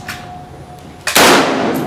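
A single sharp rifle shot, Vepr or Saiga, cracks loud and close after a moment of quiet, followed by a lingering bright wash of noise.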